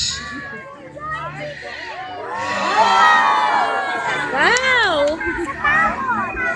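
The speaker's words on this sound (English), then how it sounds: "let's have a round of applause" At a zoo show, a crowd including children cheers and shouts in a lively burst, excited voices rising and overlapping over a bed of chatter, with a child's high exclamations near the end.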